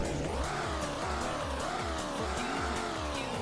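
Corvette C6 engine idling in a Greenville driving game, a steady, throbbing low idle with an even pulsing rhythm, continuous and close, with no talking.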